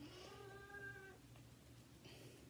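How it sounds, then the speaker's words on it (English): A single cat meows once, a drawn-out tonal call, faint and indoors against a low background hum, with a softer chirp trailing near the end. "My cat is over here making noise if you hear that."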